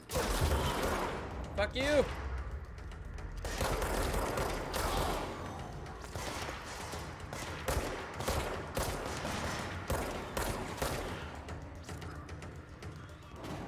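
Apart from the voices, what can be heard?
gunfire in the video game Control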